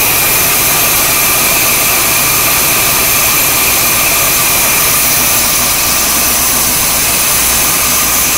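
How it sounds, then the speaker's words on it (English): A loud, constant engine drone with a high whine holds steady throughout as a 1977 Corvette barn find idles a little high, no voices. "So, the car is idling a little high."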